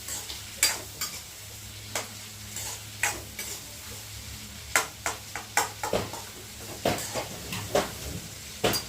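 Tomatoes fry in oil in a pan for a puri curry, with a low steady sizzle under sharp, irregular scrapes and taps of a spatula stirring them, fairly close.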